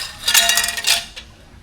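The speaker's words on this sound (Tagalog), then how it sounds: "So maghugas tayo ng pinggan." Dishes and cutlery clinking during washing up, a cluster of bright rattling clatters close by, followed by a few lighter taps as the handling settles.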